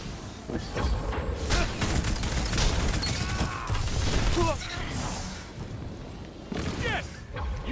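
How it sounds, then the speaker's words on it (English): A Nova Bomb ability explodes during a Destiny match amid gunfire, with dense crashing bursts and clattering shots throughout and players talking over it. "Oh, it sounded like a Nova Bomb."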